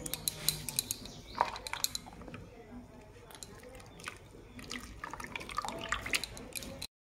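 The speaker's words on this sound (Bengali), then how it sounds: "হাতের সাথে এইভাবে কচলে কচলে আমি আলুটাকে আমি ভালোভাবে চিপে নিব, যাতে জল না থাকে আলুটাতে।" Wet grated potato squeezed by hand to press out the water, giving soft squelches and drips mixed with small clinks of a bowl, close and continuous.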